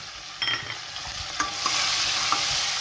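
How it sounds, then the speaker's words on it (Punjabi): Browned onions with green chili and tomato frying and being stirred in a pan, a steady sizzle with scraping stir strokes, close and alone. "ਲਓ ਪਿਆਜ਼ ਆਪਣੇ ਹੋ ਗਏ ਬਰਾਊਨ ਹੁਣ ਇਹ ਚ ਪਾ ਦਈਏ ਹਰੀ ਮਿਰਚ ਤੇ ਟਮਾਟਰ ਅੰਦਰ"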